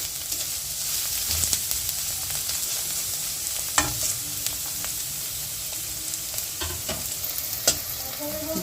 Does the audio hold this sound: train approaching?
no